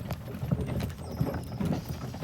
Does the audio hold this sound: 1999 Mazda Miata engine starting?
no